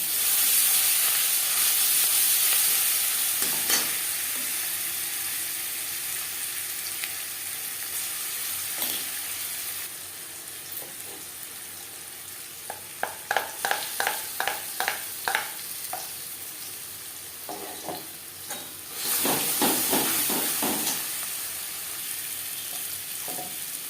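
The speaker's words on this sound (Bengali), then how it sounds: "লঙ্কার সাথে পাতা বাটা বেশ ভালো করে মিক্স করে দেবো" Steady frying sizzle with a spatula stirring and scraping through a thick taro leaf paste with chillies in a pan, a run of quick scrapes in the middle.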